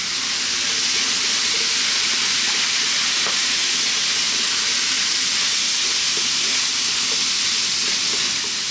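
Spicy Indian-style chicken noodles with chili, turmeric, coriander and cumin stir-fry over maximum heat, giving a loud, unbroken sizzle with faint scraping as the pan is kept moving.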